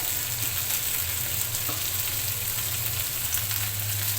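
Okra fries in a pan with mustard, giving a continuous close sizzle and crackle with a steady low hiss and occasional small pops, loud and alone with no voices.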